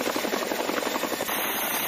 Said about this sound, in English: Despite the weight of this helicopter, its special air glass skis allow it to land in mud, sand, and snow with minimal penetration into the surface.